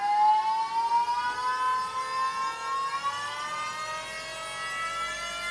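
The electric power steering pump on a Toyota MK3 Supra gives a steady motor whine that climbs smoothly in pitch as it ramps up to full speed, heard close and alone.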